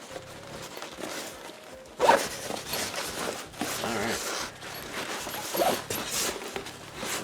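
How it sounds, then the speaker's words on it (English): Zipper on a softbox lighting kit's carrying bag rasping in short bursts close by, with bag handling and rustling between pulls and a brief spoken word. "Make sure you fold the zipper in, or else it'll get stuck."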